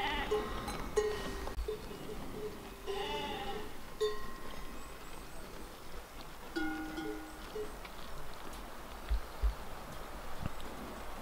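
A young ram bleats several times, fairly close, with short wavering cries spread across the clip over steady outdoor background noise at a mountain sheepfold in Borșa.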